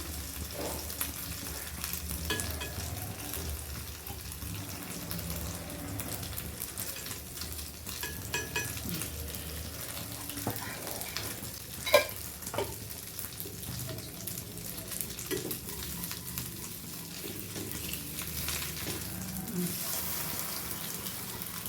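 Egg-soaked bread fries in ghee in a pan, a continuous soft sizzle with occasional light clicks and stirring sounds, close and fairly quiet throughout.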